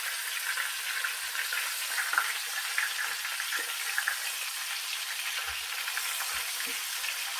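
Southern fried chicken pieces sizzle steadily in hot oil in a pan, a bright continuous crackle with scattered pops and a few low clunks as pieces shift.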